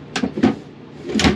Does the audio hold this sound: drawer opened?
yes